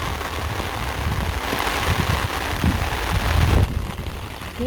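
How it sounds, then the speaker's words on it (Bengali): Heavy rain falls during a storm, a dense, continuous hiss of drops striking surfaces. It stays loud and even throughout, swelling slightly toward the end. "এত বৃষ্টি খালি বৃষ্টি না তো ঝড় সাথে ঝড়ও আছে"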